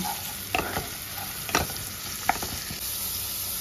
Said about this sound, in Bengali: হাফ চামচ আদা বাটা, হাফ চামচ রসুন বাটা ভালো করে পেঁয়াজের সাথে একটু নাড়াচাড়া করে নেব